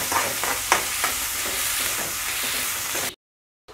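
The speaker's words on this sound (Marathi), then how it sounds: "आता यामध्ये चिरलेला कांदा टाकून चांगला परतून घेऊ।" Chopped onion frying with mustard seeds in a pan: a loud, dense close sizzle with light stirring scrapes that runs steadily, then cuts off abruptly into silence near the end, with no talk.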